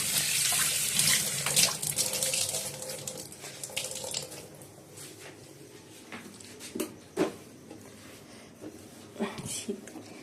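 Tap water runs into a sink while dishes and pans are scrubbed, a continuous splashing hiss broken by knocks and clatters of cookware, with a voice speaking over it.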